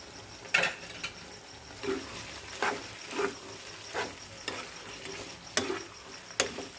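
Chicken with peanut paste frying on low-medium heat while being stirred, heard as a soft sizzle beneath repeated scraping strokes of a spoon against the pan, coming at a steady rhythm roughly every half second to second.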